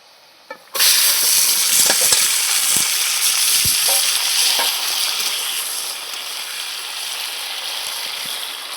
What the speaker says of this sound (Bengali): ভালো করে একটু কষিয়ে নেবো